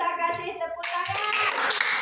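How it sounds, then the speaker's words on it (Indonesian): Schoolchildren in an Indonesian classroom clap together after a classmate's answer during a gamelan music lesson, the applause rising suddenly and continuing close by with a bit of children's chatter mixed in. "bisa kasih tepuk tangan"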